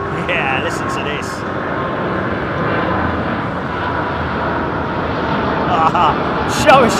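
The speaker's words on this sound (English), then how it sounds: "That's a US bound jet, isn't it?" Jet airliner departing Heathrow Airport on a steep climb, a loud continuous roaring rumble that swells slightly toward the end, with people talking over it and a few short bursts of chatter.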